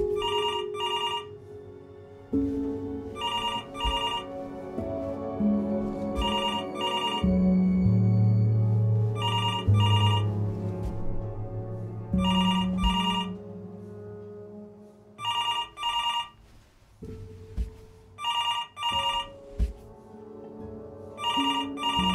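A telephone rings repeatedly in the video game Before Your Eyes, bright electronic double bursts recurring at steady intervals over a sustained, swelling musical score, with no talk.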